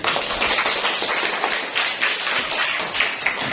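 Students in a classroom give a round of applause for a group's answer, a busy patter of many hands with sharp individual claps standing out, continuing steadily.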